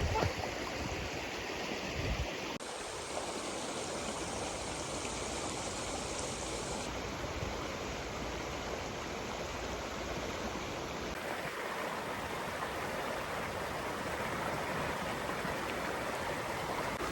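Strong stream of runoff water after heavy rain rushing through fields and channels, a steady broadband roar with splashing texture, continuous and fairly close, with no voices.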